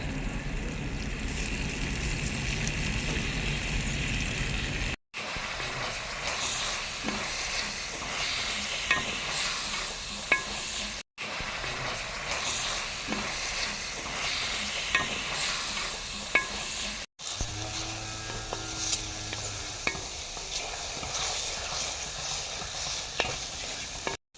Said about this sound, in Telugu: గోంగూర అనేది మంచిగా ఫ్రై అయింది.